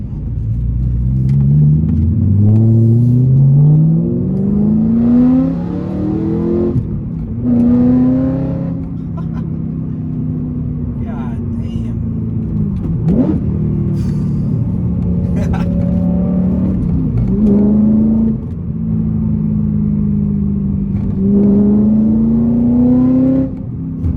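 A loud V8 in a manual BMW E92 M3 Competition with a loud exhaust revs and pulls hard through several gear changes in an industrial park, pitch climbing and dropping, heard close from inside.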